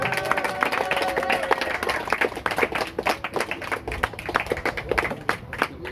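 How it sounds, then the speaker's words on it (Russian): Audience clapping at a live show about a fishing family, a dense patter of many hands sustained throughout, fairly close and steady, with some faint voices mixed underneath. "Алло, хлопаем!"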